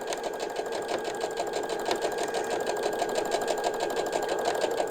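A sewing machine stitches the final long side of a Thermolam-padded cafetière cover, a steady close mechanical whir with fast rhythmic needle chatter running unbroken, no voices.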